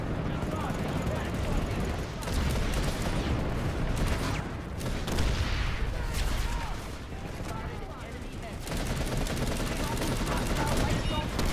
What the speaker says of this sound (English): Yeah, they're totally shooting us with turrets.